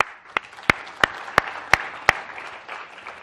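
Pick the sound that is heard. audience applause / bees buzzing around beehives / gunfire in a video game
audience applause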